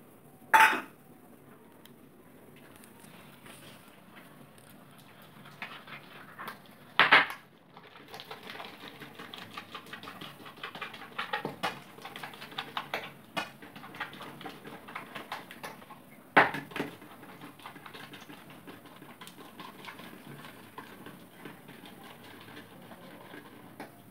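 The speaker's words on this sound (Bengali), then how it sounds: "এবার একটুখানি ভালো করে ব্যাটারটা তৈরি করে নেব" A utensil stirs gram-flour batter with salt, chili powder and nigella seeds in a bowl for beguni: soft, busy scraping and tapping broken by a few louder clinks against the bowl, close up and without talk.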